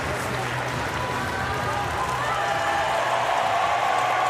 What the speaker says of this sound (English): And the crowd warmly greeting the silver medal winner.